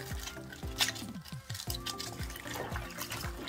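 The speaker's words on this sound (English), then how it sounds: "make sure you get in there and pull them apart and wash it" Cabbage leaves being pulled apart and washed in water: close splashing and sloshing with soft knocks and rustles, fairly quiet and continuous, no talking.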